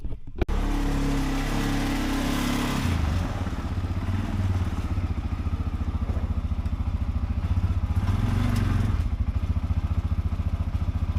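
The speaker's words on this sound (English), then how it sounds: "then we'll pull the other four-wheeler on" An ATV four-wheeler engine idles and revs as it is driven onto a trailer, a steady low putter rising into a louder rev partway through, close by and without talking.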